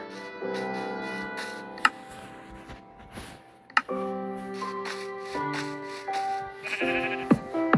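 Sheep bleat in the Minecraft video game, several distinct calls in short succession amid light game clicks and ticks, clear and fairly close.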